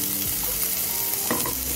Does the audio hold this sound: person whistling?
no